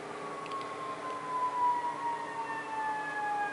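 Ambulance sirens wail continuously at a distance, several overlapping tones slowly sliding in pitch over a steady background hum, with no talking.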